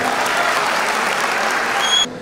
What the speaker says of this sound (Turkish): Başkanımıza büyük bir alkış inşallah